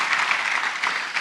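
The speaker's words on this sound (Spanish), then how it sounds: "denle un aplauso al Rey bendito" A church congregation applauds at a pastors' retreat, steady dense clapping that fills the whole short moment at moderate loudness with no break.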